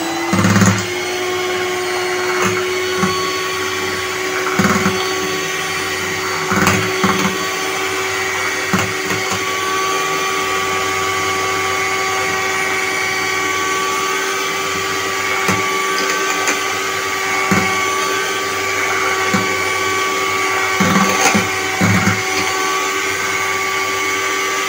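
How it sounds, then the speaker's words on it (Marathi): An electric mixer beating chocolate cake batter with room-temperature milk, a steady loud whirring motor drone that runs continuously with occasional knocks of the beaters against the bowl. "आपण परत एकदा बीट करूया"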